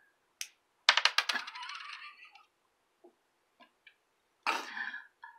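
Buttons cut from old clothes and jackets dropped into a pile, a quick clattering cascade of small hard clicks, then a few isolated taps and another short rattling spill, close and fairly quiet.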